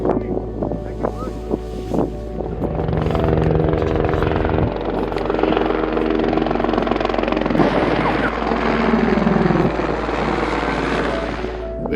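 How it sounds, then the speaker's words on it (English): An aircraft, probably a helicopter, passes overhead on its way to a bushfire in Kruger, a loud, steady engine and rotor roar that builds and holds for the whole stretch, with wind noise. "We had another flyby on its way to investigate a bushfire."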